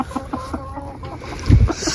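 Black rooster and hens clucking in a backyard flock, a run of short repeated clucks at moderate distance followed by a louder low thump near the end.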